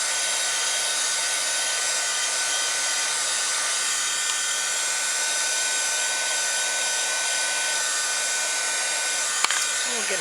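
A hair dryer blows steadily to dry a handmade Christmas card, a constant loud whooshing hum with no break for the whole stretch.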